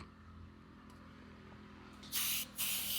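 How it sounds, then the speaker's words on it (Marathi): Two short bursts of insecticide spray hiss out from a nozzle onto both sides of a bag after a quiet stretch, each a sharp airy whoosh with a brief pause between. "ह्या पिशवीवरती फक्त दोन्ही साईडनी हा जो काही मक्षकारी एन एक स्प्रे"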